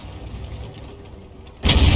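A tank cannon fires at an M12 artillery vehicle in World of Tanks, one sudden loud low boom near the end after a steady engine-like rumble.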